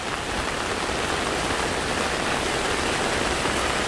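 Heavy tropical rain pours down steadily on a street in Bangkok in a dense, even hiss, close and continuous with no pauses or voices.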